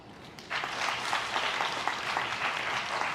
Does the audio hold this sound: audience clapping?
yes